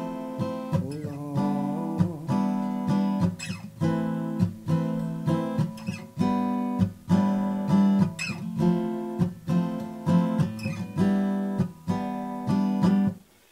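An acoustic guitar strums full, ringing chords in a steady rhythm, each strum clear and close, played alone with no voice.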